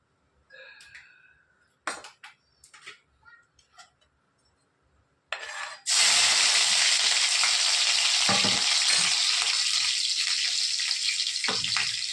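Tempering for a thin khichdi bursts into loud, steady sizzling in hot oil about halfway through, after a few earlier clinks and taps, and keeps crackling strongly to the end.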